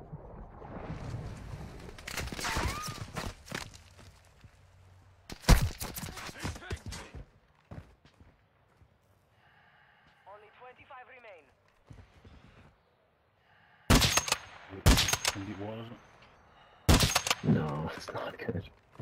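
Gunfire in an online shooter game, sharp broadband bursts in several separate volleys with quieter game sounds in between.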